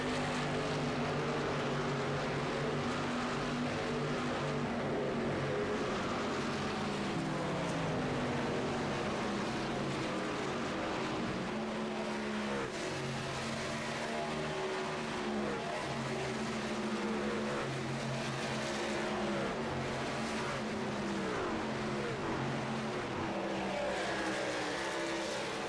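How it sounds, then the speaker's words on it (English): Race cars roar around an oval track at Atlanta in a stock car racing video game, with engines whining and layered pitches shifting as the cars pass one another. The sound is loud and continuous the whole time, and nobody talks. "Matt Sisler on the racetrack right now."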